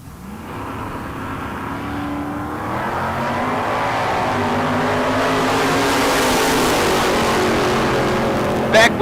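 Drag racing cars, one of them a Ford Falcon, roar down the strip at a bracket race in a sustained, building engine drone that swells loud and near, while an announcer talks over it.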